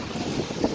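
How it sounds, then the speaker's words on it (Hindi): Strong wind buffets the microphone outdoors at a goat farm in Dera Ghazi Khan, with dust blowing, giving a steady loud rushing roar with no voices. "इधर देखे ना कितनी हवा चल रही है,"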